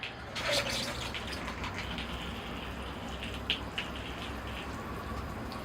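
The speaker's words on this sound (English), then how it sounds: "Okay, here I go with the water." Water is poured onto the soil of a freshly repotted Alberta spruce bonsai in a round pot, a steady close splashing gush running throughout with a few brighter drips.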